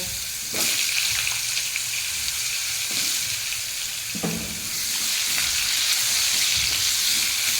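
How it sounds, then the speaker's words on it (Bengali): Large cut potato pieces frying in a wok still greasy from eggs fried just before, giving a loud, steady, close sizzle with occasional stirring scrapes throughout. "একই কড়াইয়ের মধ্যে বড় বড় করে কেটে রাখা কিছু আলু ভেজে নেব"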